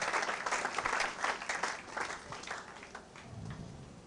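A church congregation applauds steadily at a New Year's Eve service, dense clapping filling the room with no speech over it, gradually thinning toward the end.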